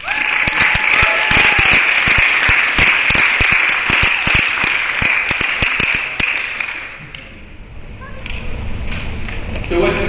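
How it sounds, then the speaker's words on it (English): A conference audience claps in a loud, dense round of applause that fills most of the moment, thinning and dipping briefly near the end before picking up again. "Give a round of applause for Chris and a big round of applause for Bob Richards."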